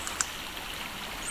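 A spring-fed stream in Oregon's Deschutes National Forest flows in a steady, soft wash and trickle, with a few faint drip-like ticks over the even rush of water.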